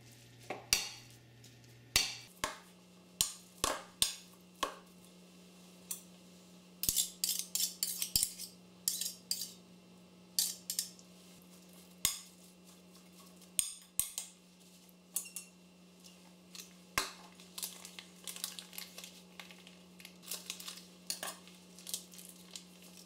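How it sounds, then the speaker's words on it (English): Four boiled potatoes being mashed for a Bengali chital fish dumpling curry, with repeated sharp scraping and tapping strokes of a utensil against the bowl in an irregular rhythm over a steady low hum. "Mash up the 4 boiled potatoes."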